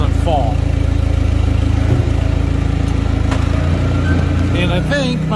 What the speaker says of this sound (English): I'm going to put the forklift forks right inside that weight and hold it for me